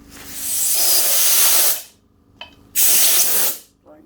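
Compressed air blasts silicone out of DR200 motorcycle clutch parts in two loud, sustained hissing bursts of about a second and a half each, separated by a short pause, with a brief faint puff at the end.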